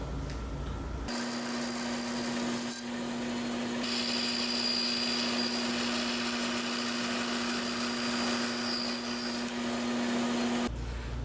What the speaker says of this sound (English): So I'm going to take this back to the bandsaw and go ahead and make that cutout.